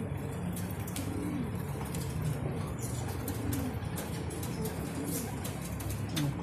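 Pigeons coming down to land outdoors, with steady cooing and a few soft wing flaps over constant background hiss, moderately close.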